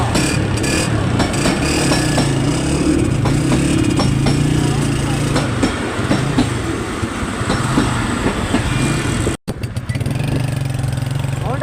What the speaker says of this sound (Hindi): सामने ट्रेन आ रही है।